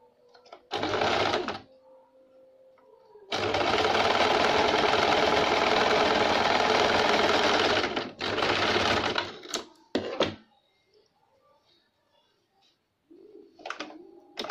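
A sewing machine runs loud and close while stitching a blouse back neck, a short burst, then a long steady run of several seconds, followed by shorter bursts and quiet pauses.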